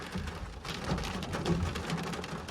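Heavy rain pours down in a severe storm with winds near 70 mph, a dense, steady roar of water beating on surfaces, close and fairly loud, with no voices.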